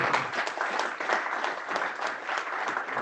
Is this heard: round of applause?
yes